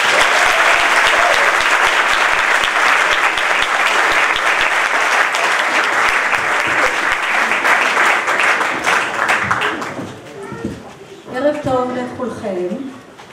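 An audience at an evening stage event bursts into loud, sustained applause for about ten seconds as a singer is welcomed to the stage, then fades while a voice speaks over the dying claps.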